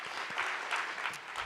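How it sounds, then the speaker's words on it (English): Warm applause from an audience at an afternoon Outstanding Mother Awards ceremony, a steady wash of many hands clapping at moderate volume throughout with no break. "one more round of applause"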